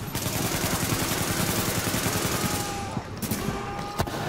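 Sustained automatic gunfire from The Division, a dense rapid rattle of shots filling the scene, with a few sharper individual reports near the end and faint talk underneath.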